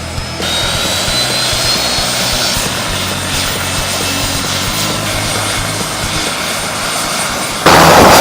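Helicopter on a 15-minute sightseeing flight, a loud, steady rotor and engine drone running throughout, swelling brighter and louder near the end.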